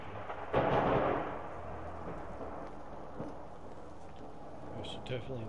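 A thunderstorm rumbles with a loud thunder crack early on, then steady rain hiss continues beneath, with faint voice-like sounds near the end.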